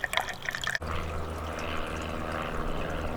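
A small, gentle flow of water runs into a gold sluice, a soft steady trickle after a brief clatter, close and quiet.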